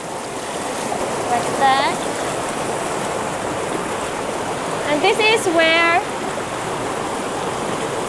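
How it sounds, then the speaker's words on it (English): River water flows steadily with a rushing wash as a bucket is dumped and rinsed in it, and someone talks briefly over the constant stream. "we are going to dump the water here in the river and wash our bucket and refill again with water"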